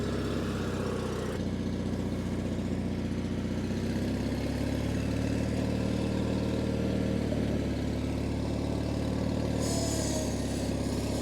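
A 37-year-old John Deere 316 lawn tractor engine runs steadily at close range for the whole stretch, a low droning hum with a faint, slightly uneven pulse and a brief higher whine near the end.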